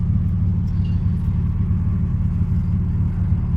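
A Buick winter beater car, back on the road after six months of sitting, hums along with a steady low engine and road rumble heard from inside the cabin while driving, with no talk.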